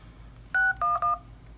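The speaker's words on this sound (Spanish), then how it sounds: "Vamos a llamar al 611," Touch-tone keypad beeps from a ZTE Maven 3 phone dialing 611, three short, clear tones in quick succession, the first slightly longer, heard alone in a quiet room.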